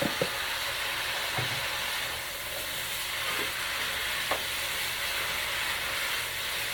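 Vegetables added to a pan of pepper steak over high heat give a steady, moderately loud sizzle and hiss, broken by a few faint clicks of stirring, with no voices.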